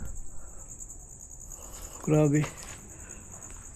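Crickets chirp at an abandoned village, a high, steady trill running through the whole stretch, while a person briefly speaks a single word partway through.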